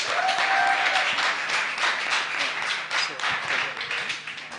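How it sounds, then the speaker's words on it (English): An audience at an expo grand finale applauds steadily for several seconds, a dense wash of clapping that stays loud and tapers slightly at the end. "let's give them a round of applause"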